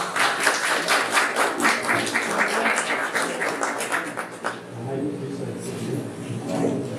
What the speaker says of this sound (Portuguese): salve de palmas para o seu Orlando